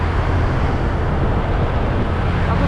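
A motorcycle being ridden along a road toward Segening waterfall in Bangli, its engine trembling under acceleration, gives a loud, steady, close rumble blended with wind and road noise throughout.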